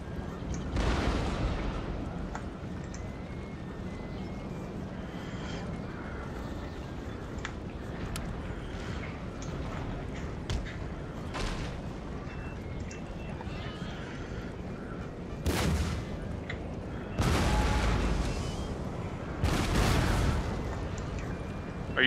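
Artillery cannon fire in Napoleon Total War on the Waterloo map: distant booming salvos recur through a steady battlefield din, with heavier blasts near the end and a voice talking over it.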